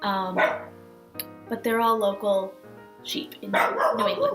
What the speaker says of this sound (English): And I apologize for the barking.